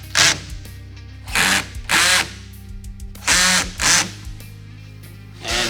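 A power drill tightens bed cover brackets on a 2010-2018 RAM 1500 hard flip-up bed cover install, giving loud, short whirring bursts close by with brief pauses between them.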